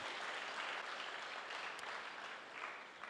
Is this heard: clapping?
yes